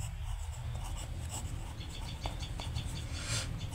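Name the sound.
writing on the board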